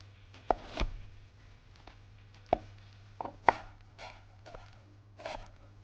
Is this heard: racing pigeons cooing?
no